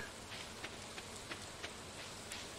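Steady soft rain from the Stardew Valley video game, a low continuous hiss with faint periodic droplet taps, heard alone without talk.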